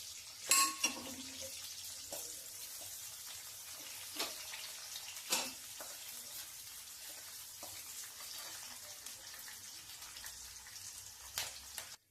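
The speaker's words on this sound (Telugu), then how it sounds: "ఉల్లిపాయలు ఇలాగా గులాబీ వేగిన తర్వాత" Onions fry in oil in a pan for a brinjal and peas curry with a soft, steady sizzle, broken by a few louder clatters of stirring.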